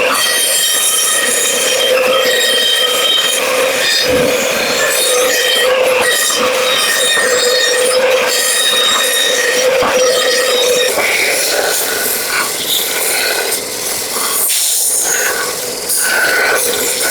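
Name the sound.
bandsaw cutting out wooden blanks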